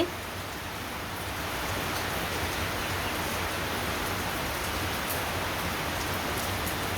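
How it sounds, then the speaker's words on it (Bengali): Morning rain falling steadily, a dense even hiss of drops on surfaces that holds constant throughout, with no talking. "সকাল সকাল বৃষ্টি নেমে গেছে দেখেন বৃষ্টির অবস্থা"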